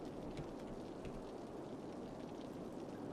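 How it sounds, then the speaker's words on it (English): Steady rain from the Cities Skylines city-building game pours as a dense, even hiss with low rumbling texture, continuous and fairly loud throughout with no voices. "Oh Jesus, it's raining. It's raining good."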